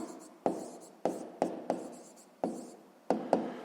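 Hand writing numbers during a fifth-grade math exercise, a series of soft, close scratching strokes on paper, each starting sharply and fading, about eight marks at an uneven rhythm.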